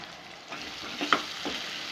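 Salted ingredients for curd pachadi are stirred in a pan, giving a soft steady sizzle with a couple of brief scraping strokes and a small clink near the middle, fairly close and alone.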